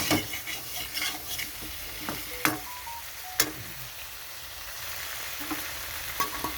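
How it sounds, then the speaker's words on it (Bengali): Spice paste for a tengra fish curry with pui shak stems, potato and brinjal sautés in a pan, a quiet sizzle under occasional spatula scrapes and sharp taps against the metal. "মশলাটা দেওয়ার পরে ভালো করে কষাতে হবে। তো আমি এখানে কষিয়ে নিচ্ছি।"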